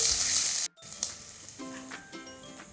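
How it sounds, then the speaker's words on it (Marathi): Chopped onion goes into a hot pan for a crispy paneer Manchurian and fries with a steady, close sizzle; the hiss briefly cuts out, then returns as a lighter crackle with soft stirring scrapes. "आता ह्याच्यामध्ये चिरलेला कांदा घालायचा आणि हे चांगलं मिक्स करून घ्यायचं"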